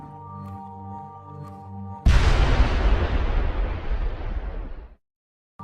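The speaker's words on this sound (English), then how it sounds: "This bang sent shards of mass and material hurling in all directions" A Big Bang explosion effect: a sudden massive boom bursts in after a quiet tonal hum, then rumbles and decays for about three seconds before cutting off to silence.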